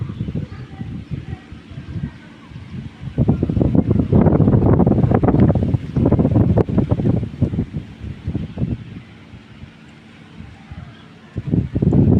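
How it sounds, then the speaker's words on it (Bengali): Wind gusts across open rice fields beside a pond, a steady broadband rush swelling louder in the middle and easing off later, with buffeting on the microphone and no clear talk. "ধান দেখো কি সুন্দর হাওয়া দিচ্ছে"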